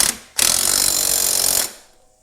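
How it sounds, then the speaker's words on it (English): A universal wrench spins to tighten a bolt on an ATV during a CV boot install, a single loud, buzzing mechanical burst of just over a second that cuts off and fades. "we'll just use the universal wrench"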